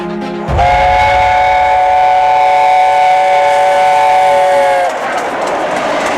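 A loud, sustained multi-tone train horn sounds at a railway station in England, held steady for about four seconds after a sharp onset, then cuts off, leaving rumbling rail and station ambience.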